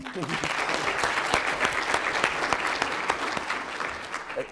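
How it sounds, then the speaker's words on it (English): At the Uplifting Black Men Conference at Virginia Tech, an audience applauds a speaker with steady, close clapping, a few distinct claps popping out, while a voice briefly carries over the start. "Let's give him a round of applause."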